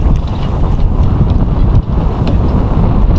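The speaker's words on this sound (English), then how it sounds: "As the wind picks up a little." Strong wind buffeting the microphone aboard an Allied 36 ketch under sail, a loud, continuous low rumbling roar with gusty fluctuations and faint splashing texture throughout.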